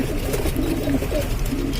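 Pigeons kept at a home in Lucknow coo in low, soft throbs beneath a dense, hissy background that almost buries them.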